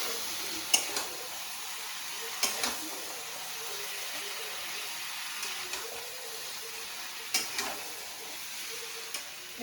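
Food sizzles steadily in a hot home-kitchen pan, with a soft, continuous fry broken by sharp scraping clicks of stirring every couple of seconds; no voices are heard.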